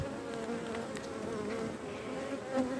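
Honeybees swarm around an open beehive during a brood inspection, making a dense, steady buzz close by, with individual bees droning past on the higher layer.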